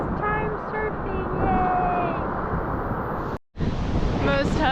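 Ocean surf rolling onto the shore at Capbreton, France, a continuous loud wash of breaking waves with wind buffeting the microphone, a brief dropout near the end, and faint voices in the background.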